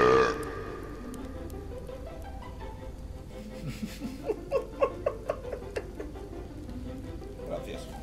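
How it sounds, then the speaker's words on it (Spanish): A loud, drawn-out burp opens the scene, followed by a string of short vocal bursts and voices nearby. "por el eructazo que te has pegado"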